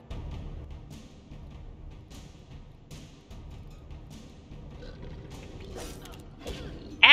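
Mechanical creaking and clanking of a cannon crab enemy mechanism in the video game Alice Madness Returns, a steady grinding machine rumble with a sharp louder clank at the very end.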